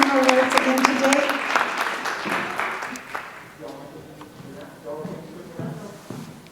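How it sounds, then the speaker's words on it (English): Audience applause at a school district spelling bee, a crowd clapping for the word pronouncer; a dense burst of clapping under a voice at first, then thinning into scattered claps and background voices. "A big round of applause for Mr. Maxfad"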